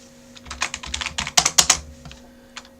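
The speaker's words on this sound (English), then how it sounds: "I'm just gonna type in some random nonsense" Someone types on a computer keyboard in a quiet room. A quick, uneven run of close, crisp key clicks builds to a denser burst in the middle, then thins out to a few final taps.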